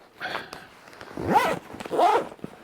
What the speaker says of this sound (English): Zippers are very robust and strong.